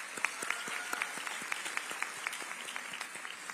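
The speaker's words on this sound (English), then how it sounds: "Let's give him a round of applause." Audience applause at the Broward Virtual School class of 2025 graduation ceremony: steady, fairly faint clapping with individual claps standing out, heard alone without talk.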